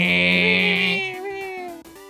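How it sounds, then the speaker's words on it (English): A drawn-out, tonal meow followed by shorter wavering cries, loud and close with no other sounds around it. "Meow, meow,"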